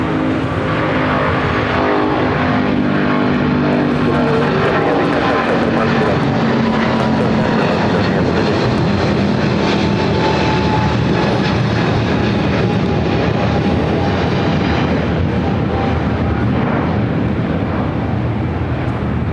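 An All Nippon Airways Dreamliner airliner at Los Angeles International Airport gives off a loud, steady jet roar that fills the whole clip, with no talk over it.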